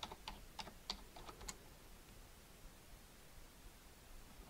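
Quick burst of computer keyboard typing on a Debian Linux desktop running on an Orange Pi 5, crisp close keystrokes for about a second and a half, then only faint room hiss.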